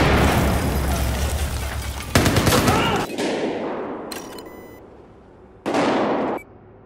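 Gunfire and explosions from the shooter game Battlefield 4, loud dense bursts and booms rolling through the opening seconds, then thinning to scattered shots, with a final sharp burst late on.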